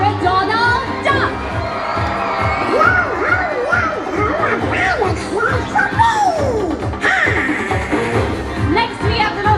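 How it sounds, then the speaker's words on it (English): A loud crowd of adults and children cheering, whooping and shouting for Pirate Donald Duck at a pirate night show aboard a Disney cruise, sustained and close with overlapping voices. "Please give a loud Buccaneer cheer to Pirate Donald Duck!"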